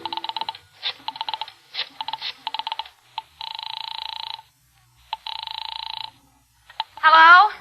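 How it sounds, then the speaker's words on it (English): Radio drama sound effect of a telephone number being dialed: a run of short clicking bursts and longer whirring tones separated by pauses, fairly close, followed by a voice starting to speak at the end. "I found it and crawled over to it and started dialing my number."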